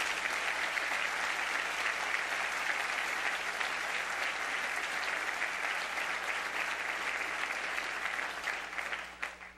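A church congregation claps steadily in a dense, sustained round of applause that holds strong throughout, then begins to thin out near the end.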